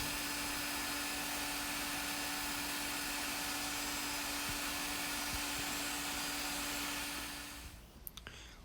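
A wood lathe turning a vessel from a log runs with a continuous, even whir and hum, then winds down and fades near the end, leaving a few faint clicks.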